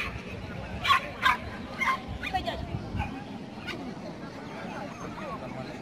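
Dogs at an all-breed dog show at a stadium in Dnipropetrovsk, 2016: several sharp barks and yips close by early on, then quieter whimpers and yelps further off under a crowd murmur.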